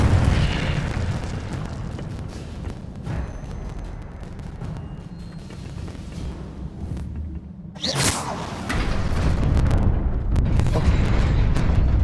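Incendio fire spell cast in the Hogwarts Legacy video game: a roaring, rumbling burst of flames under a continuous loud game soundscape, with a sharp bright whoosh near the end and heavy fiery rumbling after it.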